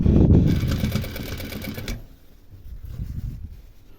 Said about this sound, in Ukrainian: прокладаємо строчку близько до шва на деталі обшивки